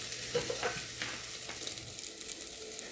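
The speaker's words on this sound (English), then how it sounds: "we're going to saute this for 1 to 2 minutes" Coarse bulgur sauteing in a pan for a bulgur pilaf, a soft even sizzle with light stirring scrapes and taps throughout, close and fairly quiet, no voices.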